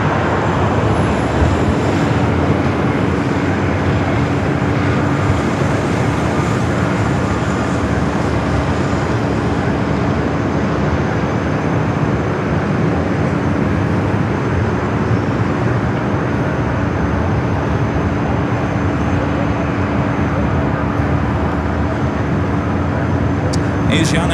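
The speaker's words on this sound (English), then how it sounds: "Alaska and the Star Wars livery heading to Portland, flight 1355. Again, it's that 737-800." An Alaska Airlines Boeing 737-800 in Star Wars livery departs LAX for Portland, a steady, loud broadband jet roar sustained throughout with a faint tonal whine, talk likely running over it.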